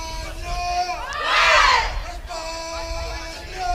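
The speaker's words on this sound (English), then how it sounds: "And you hear Spain cheering in the background" Spanish supporters at an outdoor archery field championship raise a brief, loud swell of shouting and cheering that peaks and fades within a couple of seconds, with scattered crowd noise around it.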